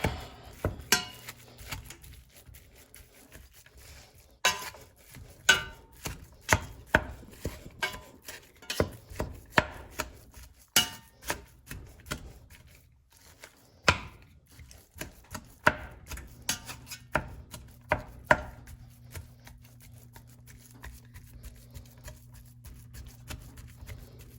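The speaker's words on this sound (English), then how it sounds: "I'm gonna get my spatula or a spoon or whatever you have. I'm just gonna mush it all down." Chili meat mashed down in a pot with a spatula or spoon, producing a steady series of sharp, fairly faint taps and scrapes at an uneven rhythm with a soft background hum.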